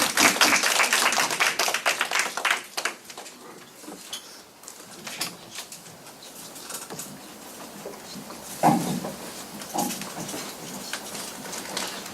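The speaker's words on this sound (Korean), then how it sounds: "우리 박수로 좀 환영하겠습니다." An audience at a Korean high school admissions information session claps to welcome a speaker, scattered and uneven hand claps that start strong and thin out, with a brief flurry near the end.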